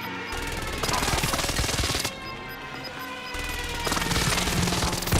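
Dense, rapid explosions and gunfire from a precision airstrike rattle through a Call of Duty: Modern Warfare match, loud bursts of a few seconds each separated by a quieter lull.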